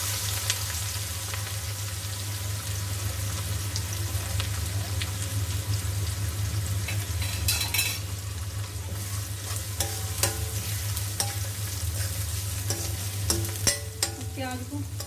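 Chopped onion added to hot oil with red chilli in a pan for kadhi, sizzling and frying steadily with occasional stirring clinks.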